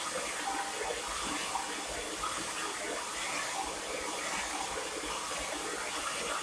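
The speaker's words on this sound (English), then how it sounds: "Can't nobody blow dry faster than me." Continuous loud whoosh of a hair dryer blowing air through hair, a steady broadband roar held close to the microphone throughout, with no voices over it.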